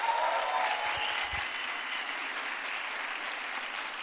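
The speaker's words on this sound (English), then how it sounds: "Big round of applause." A round of audience applause at an alumni summit presentation, dense and steady clapping that starts strong and eases slightly while continuing.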